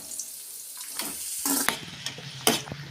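Washed banana flower tossed into a pan of softening onions for a poriyal, giving scattered soft splashy clatters and a light wet sizzle, close and moderately quiet, with no talking.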